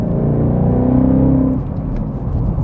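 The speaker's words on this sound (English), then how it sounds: "it does get louder and a lot more of a noticeable growl, a little bit of a rasp to it" A 2018-2019 Ford Mustang GT with a Ford Performance by Borla Extreme catback exhaust and quad tips accelerates after a downshift, a loud, close, deep droning growl that rises steadily and then roughens slightly.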